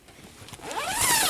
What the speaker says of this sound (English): And so I'll zip it up